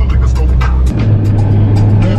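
A 2018 Ferrari Portofino driving, its engine a steady low hum close by, with people talking over it inside the car.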